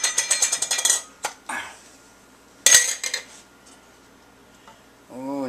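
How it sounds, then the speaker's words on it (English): Yogurt being mixed into a thick mixture in a bowl, a quick run of rhythmic spoon clinks, then scattered scrapes and taps against the bowl with quiet gaps between. "now we're going to mix in the yogurt."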